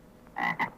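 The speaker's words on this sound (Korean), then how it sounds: "개구리잖아 쉽다" Two loud, raspy frog croaks in quick succession, the second shorter, over a quiet background.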